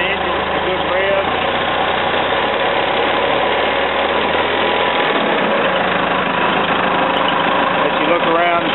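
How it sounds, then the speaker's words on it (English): A diesel engine of a 2000 Manitou M430CP telehandler runs steadily close up, a loud, rough rumble that rises slightly midway, continuous throughout. "really give the engine a good rev"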